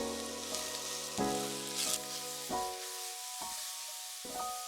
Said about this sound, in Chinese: 先将蘑菇片炒香